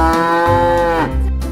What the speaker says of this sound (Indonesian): Wow, ada sapi berwarna hijau dan putih teman-teman.